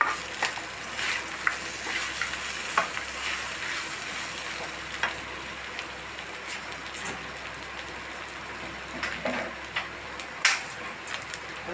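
Chicken thoran with roasted coconut sizzles in a pan while a spoon stirs it, giving a steady frying hiss broken by scattered scraping clicks, and a sharper scrape near the end.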